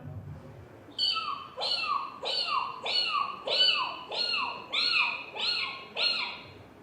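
A contestant at a Kerala school arts festival mimicry competition imitates a kitten's meow with their voice, giving about eight short, high, rising-then-falling mews in a steady rhythm, close and clear.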